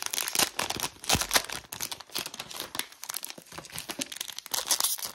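A 2020 Prizm Basketball card pack wrapper is torn open close up, with a run of crisp crinkling and tearing bursts that stop and start irregularly. There is no talking.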